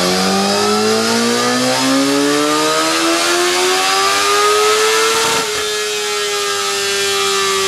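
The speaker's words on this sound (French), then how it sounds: "On repasse la Kawa au banc parce que le mécano c'est un sorcier." A Kawasaki motorcycle is run on a dyno. The engine whines steadily higher through the gears for several seconds, peaks, then drops back and drones on. It is loud and close, with no talk.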